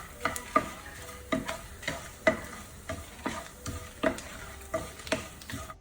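Dried red chillies fry in a pan for a village-style Chettinad mutton curry, a soft sizzle under a string of light, regular spoon scrapes and taps close by, with no talking.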